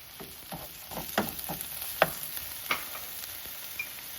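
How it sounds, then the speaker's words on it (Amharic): Garlic and onions fry for a green cabbage dish, making a soft, steady sizzle with a series of light spoon taps and scrapes, several in quick succession, fairly quiet and close, with no talking. "ነጭ ሽንኩርት ነው የምጨምረው አሁን"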